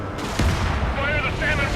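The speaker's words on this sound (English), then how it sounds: "Strider 3, launching missile." A fighter jet fires a missile in Ace Combat 7, a sharp booming launch burst over steady jet roar, with radio voices talking over it.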